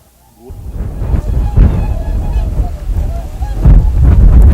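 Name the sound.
migratory birds calling at the Nakdong River estuary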